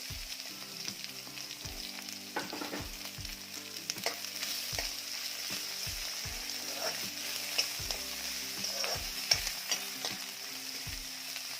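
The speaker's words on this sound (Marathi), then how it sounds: "आता यामध्ये कांदा घालायचा आहे." Onion sizzling in a pan of hot oil after green chillies, for a dill and bell pepper vegetable dish: a steady, close frying hiss with repeated clicks and scrapes of stirring, and no voice.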